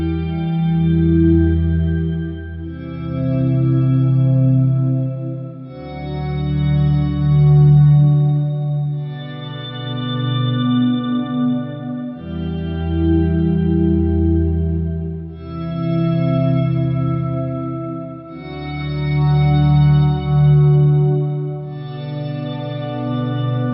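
Ambient electric guitar swells layered with an octave effect, reverb and two delay pedals, forming a smooth, sustained wash of repeated chords that rise and fade in slow waves, loud and alone.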